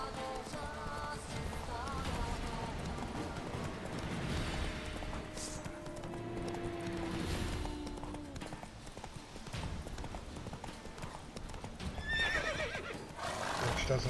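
Roach, the horse in The Witcher 3, whinnies amid steady clip-clop of hooves on mountain terrain, with a brief high neigh near the end over a continuous game soundscape.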